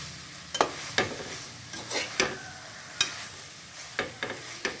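Yogurt being stirred into a milmaker biryani mixture in a pan, a utensil scraping and knocking in irregular bursts about every half second to second, close and moderately loud with faint background hiss and no voices.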